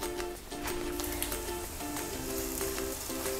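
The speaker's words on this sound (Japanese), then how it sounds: "熱したフライパンに油を敷き中火で焼いていきます。" A Japanese-style cheese-stuffed hamburger patty fries in an oiled pan over medium heat, giving a steady close sizzle with scattered crackles and pops, with faint tonal kitchen hum beneath and no voices.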